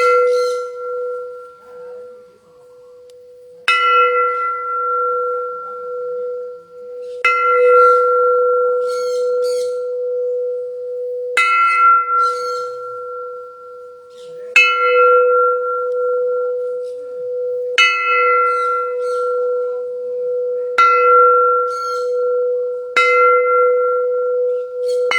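A Thai temple bell in Isan, struck with a mallet, rings out again and again with a bright metallic clang and a long sustained hum between strikes, close and fairly loud, with faint background voices.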